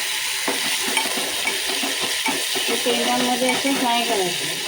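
Wet grated-coconut paste frying in a pan for an Agri-style prawn curry, a steady loud sizzle with scraping stirs throughout and a voice faintly audible in the later part.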